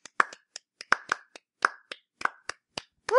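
Scattered hand claps from a few people on a podcast, about a dozen sharp separate claps spread unevenly over three seconds, close and dry with no talking.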